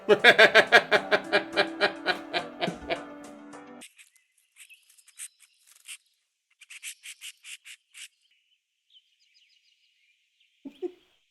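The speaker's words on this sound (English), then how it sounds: "That's not a bird, that's a squirrel." Squirrel calling in a series of rapid harsh chirps at the start, then scattered short sharp squeaks and chatters with pauses between, fairly close.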